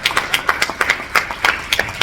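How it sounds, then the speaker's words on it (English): Audience applause for conference panelists at a faith-based organizations event, sparse and rhythmic, individual claps clearly separated as a modest crowd claps steadily. "Can we get another round of applause for all of our panelists?"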